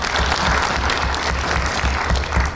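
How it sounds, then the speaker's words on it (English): Convention audience at the Kenya School of Government, during a Pan African Youth Convention address, breaks into loud, sustained applause, dense clapping filling the hall throughout without a break. "A round of applause, ladies and gentlemen."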